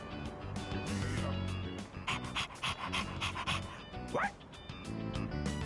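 A dog pants in rapid, steady breaths in Persona 3 Reload, close and fairly loud, with a brief whimpering yip near the end over game background music.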